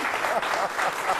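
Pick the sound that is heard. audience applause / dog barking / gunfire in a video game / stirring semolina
audience applause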